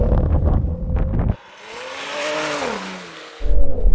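Porsche launching in an off-road drag race and losing traction, engine revving up and down in a rising, wavering whine at a distance, with wind buffeting the microphone before and after.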